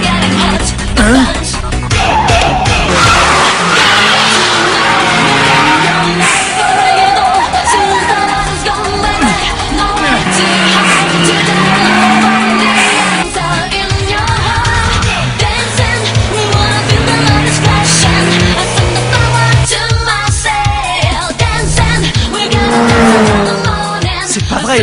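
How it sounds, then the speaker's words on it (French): Race car braking hard and turning at high speed, engine roaring and tires squealing continuously and loudly throughout, with a voice talking over it. "Il freine et il tourne en même temps à cette vitesse folle."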